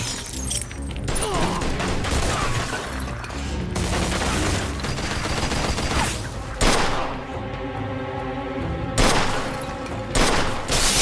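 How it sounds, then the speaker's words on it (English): Gunfire in the Mafia 2 video game, with dense bursts and rapid volleys of shots close by, plus cracks, booms and shattering debris over a tense musical bed. "They're shooting from up top!"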